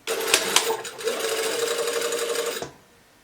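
A sewing machine stitches a rayon bodice shoulder seam, running steadily for over two seconds after a couple of sharp clicks, then stopping abruptly, close and clear with no talk.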